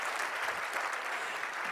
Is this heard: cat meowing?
no